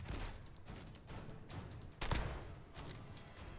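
Gunfire from a mod-added bolt-action shotgun in Fallout 4, a few faint muffled blasts with one sharper shot near the middle, set against background game noise.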